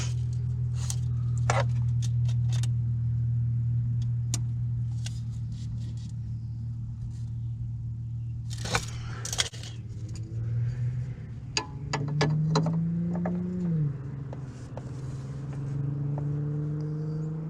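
A Nissan VQ V6 engine in a G35/350Z idles steadily with a low, even hum, broken by occasional clicks and taps nearby and a brief pitch shift near the end.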